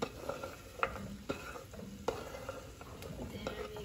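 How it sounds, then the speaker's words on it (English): Cubed butternut squash goes into a pot with ginger, heard as scraping stirs, clinks of a utensil against the pot and a light sizzle, with several sharp knocks spread through the moment. "I'm going to add my cubed butternut squash to it."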